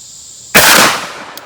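A single sharp, loud blast from a 12 gauge shotgun firing a zinc .690 round ball at an outdoor range, with a brief decaying tail and a faint click afterward.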